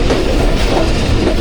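The Hazara Express passenger train runs on its rails. A loud, close, continuous rumble carries rhythmic wheel clatter throughout the brief moment.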